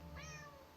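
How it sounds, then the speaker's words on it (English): A cat lets out a single short meow close by, rising then falling, quiet against a low steady background hum. "Yes, I hear you, cat."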